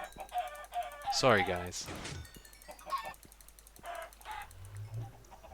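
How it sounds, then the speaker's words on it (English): Chickens in the Minecraft video game cluck in short, scattered bursts, fairly close, among game sounds and a few spoken words. "Now we can kill the chickens"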